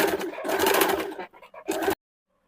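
A sewing machine runs two short bursts of stitching along a kurti seam, a loud rapid whir that pauses briefly with light rustling between runs, then stops abruptly into silence.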